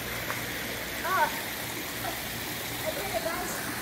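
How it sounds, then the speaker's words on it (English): A waterfall pouring into a swimming pool gives off a steady, constant rushing wash of water that stays even throughout, with no clear breaks. "And there's the waterfall."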